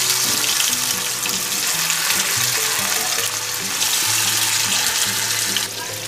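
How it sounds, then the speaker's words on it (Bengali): Rohu fish pieces frying in mustard oil in a wok, a loud, dense, continuous hiss and crackle close up with no talking. "এই মাছগুলোকে এবার আমি একটু উল্টে পাল্টে ভেজে নেব"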